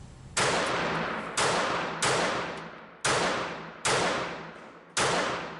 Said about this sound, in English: Let's try some rapid fire.